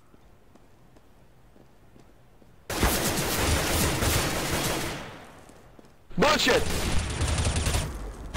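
Bursts of automatic gunfire in CS:GO during a one-on-one match, two loud sustained volleys separated by a short pause, with a player shouting over the shots.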